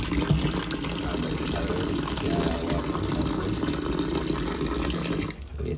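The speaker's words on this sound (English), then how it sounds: "The banana here, we'll put in some water." Water poured into a cooking pot holding green bananas for a Jamaican meal, a steady running splash that lasts throughout with a brief dip near the end, heard at close range.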